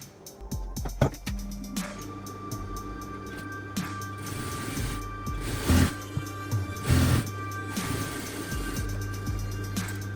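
A sewing machine stitches a French seam in cotton fabric, whirring in short runs that start and stop, with a steady motor hum and occasional clunks and handling noises between the runs.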